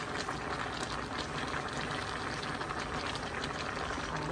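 Crabs with squash simmer in coconut milk in a pot, giving a steady, dense bubbling hiss that stays constant and close throughout, with no voices.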